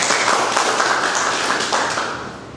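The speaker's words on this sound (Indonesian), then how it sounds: "tepuk tangan buat kita semua" An audience claps together at a morning motivational session, brisk sustained hand clapping that fades slightly toward the end.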